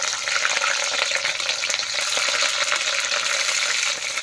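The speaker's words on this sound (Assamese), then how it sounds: "এতিয়া পিঁয়াজ দি দিওঁ, পিঁয়াজটো ভাজি কৰি লওঁ আগতে" Busy crackling sizzle of onions frying in a hot pan before pork is added, steady and close throughout, with no talking.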